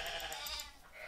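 A single short, faint sheep bleat from the video game Minecraft, heard alone.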